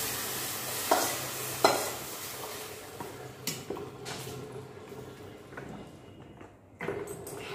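Greens and rice are stirred and fried in a pan, with a steady sizzle under repeated scraping strokes of a utensil against the pan, close and fairly quiet.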